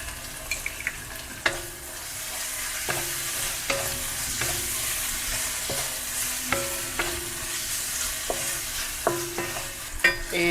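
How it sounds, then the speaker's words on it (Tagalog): Chinese fried rice being stir-fried in a pan, with a steady sizzle and repeated scraping strokes of a spatula against the pan at an uneven rhythm, up close. "Kasi nga Chinese fried rice yung ginagawa natin."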